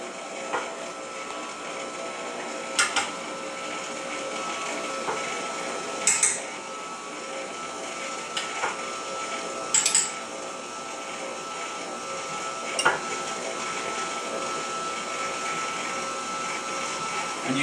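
An electric stand mixer running on slow speed, blending dry ingredients into wet chocolate chip cookie dough, a steady close motor drone with a few brief clicks and knocks.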